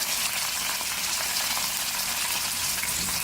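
Chopped onions and green chillies sizzle in a hot pan with a steady, dense hiss and crackle, continuous and fairly close, for an okra fry dish, with no talking.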